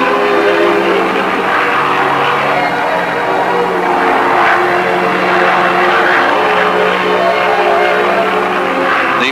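Propeller survey airplane climbing in flight, a loud, steady engine drone with a constant hum that holds unbroken for the whole stretch, no voices.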